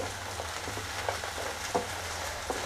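Potato pieces fry in a pan with a soft, even sizzle, accompanied by a few light taps and scrapes from stirring, fairly quiet and close.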